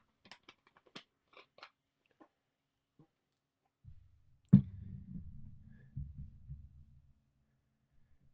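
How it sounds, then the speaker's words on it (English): A small animal gnaws and chews on a tiny piece of firewood indoors, giving a dense run of close, low crunching and biting after a few faint clicks, lasting a few seconds before trailing off. "He's just chewing up another piece of mini firewood."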